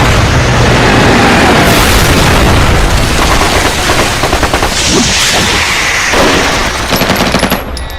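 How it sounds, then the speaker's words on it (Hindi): Sustained machine-gun fire and booming blasts from a Hollywood action film battle, loud and dense throughout with rapid bursts, fading slightly at the end. "छोड़ना मत, शूट करते रहो।"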